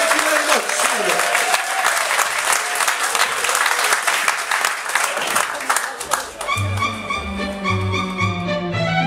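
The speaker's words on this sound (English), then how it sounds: "Can we get a massive... massive round of applause for all five actors" A comedy show audience gives a loud, dense round of applause for five actors, sustained for about six seconds before it gives way to music and a voice.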